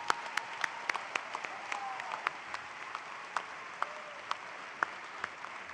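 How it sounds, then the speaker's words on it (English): A convocation audience claps sparsely and faintly in a large hall, with scattered individual sharp claps standing out over a soft, distant wash of applause. "have a round of applause for those who have crossed the road"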